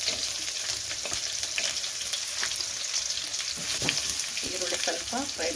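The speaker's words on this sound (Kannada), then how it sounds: "ಸ್ವಲ್ಪ ಫ್ರೈ ಮಾಡ್ಕೊಳ್ಳೋಣ. ಈರುಳ್ಳಿ ಸ್ವಲ್ಪ ಫ್ರೈ ಆಗಲಿ." Onion and curry leaves frying in hot oil for simple noodles, a steady close crackling sizzle with scattered pops and a few light utensil scrapes toward the end, no voices.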